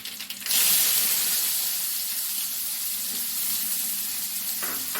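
Finely chopped onion sautéing in a hot pan for a Kerala okra thoran, a loud, steady sizzle that bursts in after a moment and hisses on evenly, with no talking.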